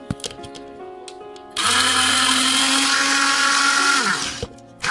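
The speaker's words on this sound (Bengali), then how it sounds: "এই যে আমি এখন এই হ্যান্ড ব্লেন্ডারটা আমি ইউজ করবো।" A hand blender whirs loudly and steadily for about three seconds as it purees mustard seeds with a little water into a mustard paste. It starts abruptly and winds down at the end.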